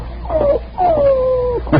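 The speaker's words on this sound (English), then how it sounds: "Let's take Sam Park's dog back to him" In a Hopalong Cassidy radio drama, a dog whimpers with two drawn-out, wavering whines, the second longer, then gives a short yelp, close up over a faint low hum.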